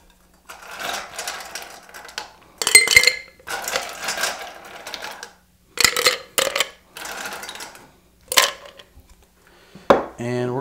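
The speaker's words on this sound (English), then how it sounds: "All right, so now we're gonna add our ice." Ice cubes are scooped and dropped into a metal cocktail mixing tin for a tiki drink, a series of several clattering, clinking bursts separated by brief pauses, close and fairly loud, with a little talk between them.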